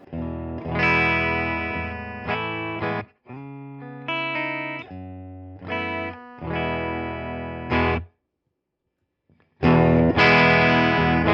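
An electric guitar through an amp plays a clean, unaffected tone, chords and ringing notes in several bursts, with a silent gap before a final strum, no voices.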